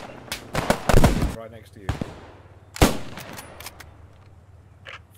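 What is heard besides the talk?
machine gun fire in the video game Post Scriptum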